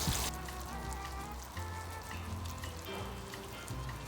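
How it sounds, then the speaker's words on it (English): Cabbage fries in bacon grease on an Old Country Wrangler pit smoker, a steady close sizzle and crackle running the whole way with scattered pops and a low hum beneath. "the cabbage has been cooking in that bacon grease for about 2 minutes, maybe a little bit longer"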